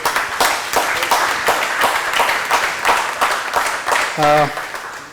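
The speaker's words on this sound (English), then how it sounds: "Big round of applause for it." Applause at a campus event on World Environment Day, heard as a crowd's scattered, uneven clapping with distinct sharp hand strikes in a loose rhythm, continuing steadily throughout with a brief voice-like tone near the end.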